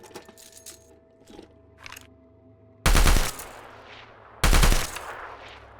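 An M60 machine gun chambered in 7.62x51 fires in the modded 7 Days to Die video game: two short, loud bursts of rapid fire, separated by a pause, after quieter handling clicks.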